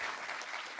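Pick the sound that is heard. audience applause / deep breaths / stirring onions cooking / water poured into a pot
audience applause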